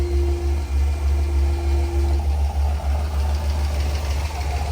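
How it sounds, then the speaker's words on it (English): A turbocharged, nitrous-fed LS-swapped Crown Vic idles with a steady low rumble and a faint valve-train tick running through it, loud and close, with no voices. "The ticking's gotten a little bit better on the valve train, but she is still a little bit noisy."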